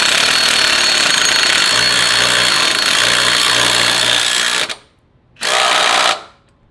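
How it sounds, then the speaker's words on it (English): Power tool tightening the large center bolt of an engine mount on a Ferrari F430, running loud and steady for several seconds, then stopping and giving one more short burst. "Now I just gotta tighten the big center bolt."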